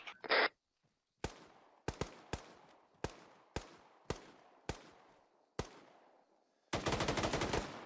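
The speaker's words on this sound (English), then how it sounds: "we're taking fire from the right side" Gunfire in Arma 3 with eight loud single shots at uneven intervals, each fading into a long echoing tail, then a sustained rapid automatic burst at the end.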